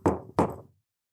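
Two firm, evenly spaced knocks on a door, close and resonant, each one ringing out briefly before silence.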